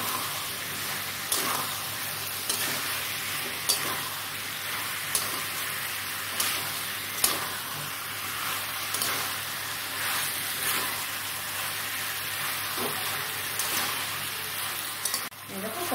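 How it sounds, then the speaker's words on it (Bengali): Shrimp and jackfruit curry fries in a pan with a constant sizzling hiss, broken by regular scraping strokes of a spatula stirring, and faint talk in the background. "এবার এটাকে আবার ভালো করে কষিয়ে নেব"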